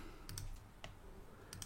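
Faint, sparse keystrokes on a computer keyboard, a few isolated clicks and a quick double tap, sound close but quiet against a low background hum.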